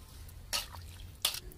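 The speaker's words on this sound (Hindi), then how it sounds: "चलिए पहले इसको पानी से हम धो लेते हैं।" Two short splashes of water sound in quick succession as a grass carp is washed, faint and close, with a quiet background and no speech.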